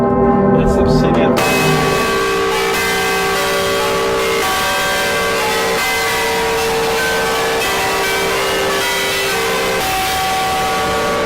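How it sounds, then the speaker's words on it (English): Church bells ring continuously inside a bell tower, a dense, loud, sustained peal of overlapping tones heard up close, following a short burst of noise at the start. "We are in the bell tower. Everyone is anxious to hear the bells."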